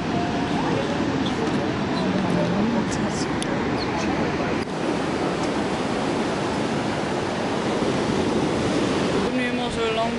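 Sea waves wash steadily along the Spanish coast, a loud continuous roar of surf with wind buffeting the microphone, while someone speaks Dutch over it throughout.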